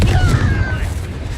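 Explosive blast of the Confringo fire spell in Hogwarts Legacy, a dense low boom with a brief whistling streak, rumbling steadily through the short moment alongside game effects.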